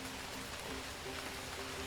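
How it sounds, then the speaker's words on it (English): Steady rainfall in the video game My Time at Sandrock, a faint, even hiss of drops with soft background tones and no speech. "This is your first rain in Sandrock, isn't it?"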